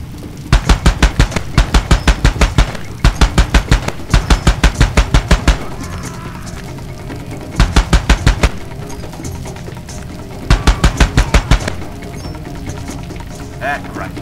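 An M2 Browning heavy machine gun firing in Far Cry 2, loud rapid bursts of evenly spaced shots, about five bursts each lasting a second or so, separated by pauses, with a person talking between and over them.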